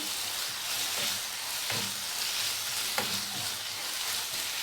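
Chicken sizzles steadily as it fries and browns in a pan, seasoned with mustard and pepper, with a few soft stirring knocks over a constant crackling hiss.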